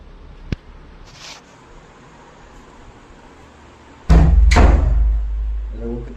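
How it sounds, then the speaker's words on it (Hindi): A door bangs shut loudly twice, a sharp early knock followed later by a heavy slam that booms and lingers, with quiet room noise in between. "कितनी तेज आवाज करता है दरवाजा"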